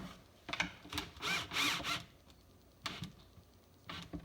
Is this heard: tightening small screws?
yes